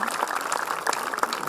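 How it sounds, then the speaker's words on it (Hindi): A festival crowd at a Holi celebration claps continuously in a dense, steady patter, fairly close and even in level, with no words spoken over it. "तालियां बजाइए।"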